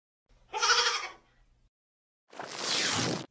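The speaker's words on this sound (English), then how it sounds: "G is for goat." A goat bleats once, loud and close, a wavering nasal cry standing alone, followed after a pause by a short breathy whoosh.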